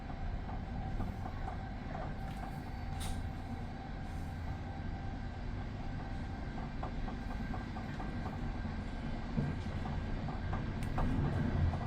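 A Polish long-distance night train running on its rails, heard from inside a carriage: a continuous low rumble with faint rhythmic clatter and brief higher rattles, growing slightly louder toward the end. No voices.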